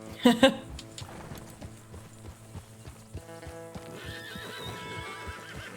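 Horses in Red Dead Redemption 2 give a sharp whinny at the start, then hooves clip-clop steadily at a walk over soft background music, with someone talking.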